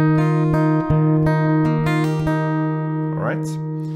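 Acoustic guitar picks the D part of a song, a few plucked notes ringing over a sustained low tone, close and clear, ending in a brief slide.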